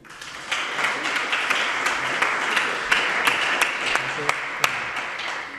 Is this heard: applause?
yes